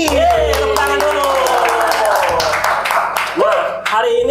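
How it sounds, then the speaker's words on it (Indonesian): A group of people claps in a podcast studio set in the Nongki coffee shop, a dense and steady patter of hands that runs for several seconds over a low hum, with voices breaking in near the end. "Tepuk tangan dulu."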